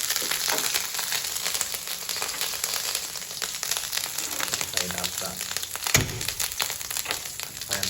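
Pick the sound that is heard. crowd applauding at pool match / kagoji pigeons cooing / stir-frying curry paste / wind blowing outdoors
stir-frying curry paste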